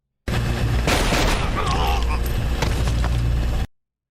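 Gunfire from a TV action show bursts out in a dense, rapid volley with booming impacts, loud and continuous for a few seconds before cutting off, with voices mixed in among the shots.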